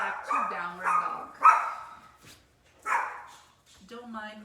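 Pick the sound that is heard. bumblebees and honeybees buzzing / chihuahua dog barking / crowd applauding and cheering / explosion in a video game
chihuahua dog barking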